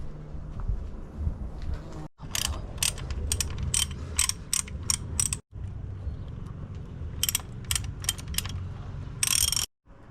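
Rapid clicking of a ratchet wrench loosening bolts on a Honda K24A engine, in repeated bursts separated by brief pauses, close and loud over some mechanical handling noise.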